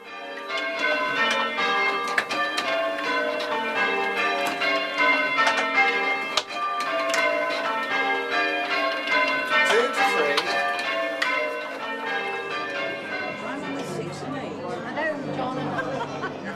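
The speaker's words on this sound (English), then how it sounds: "January arrives to the sound of the church bells" Village church bells peal for New Year, a steady ringing of layered tones that carries on without a break, with faint chatter from people nearby underneath.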